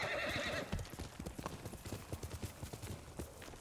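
A horse in the Ghost of Tsushima video game whinnies briefly and then gallops, with a quick rhythmic clip-clop of hooves running steadily at moderate loudness to the end.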